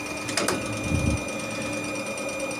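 A Soviet-era model 278 boring machine runs with a steady mechanical hum and whine, its rotation audible as a continuous drone with a brief louder surge partway through, heard close with no talking.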